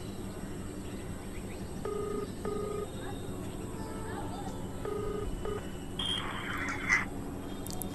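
A phone call is placed with a short series of keypad dial tones, followed by a brief higher electronic ringing tone near the end, all faint over a steady background hum.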